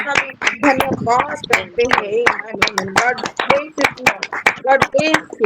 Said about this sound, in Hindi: ताली के द्वारा परमेश्वर की महिमा करें